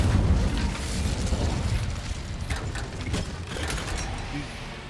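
An Incendio fire spell in the Hogwarts Legacy video game erupts in a loud, close whooshing blast that rumbles and slowly fades over a few seconds.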